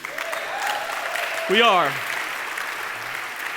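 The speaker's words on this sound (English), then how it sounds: "Well, no applause is necessary." An audience claps at a family worship service, producing a dense patter of applause while someone speaks briefly over it.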